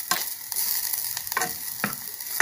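Moudjiri leaves, a Congolese leafy vegetable, sizzle and fry in a pan, a steady crackling hiss broken by several scraping stirs, close and loud with no talk.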